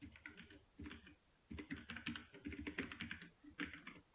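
An SQL ORDER BY clause typed on a computer keyboard, soft, fast keystrokes in several quick bursts separated by short pauses, close and fairly quiet.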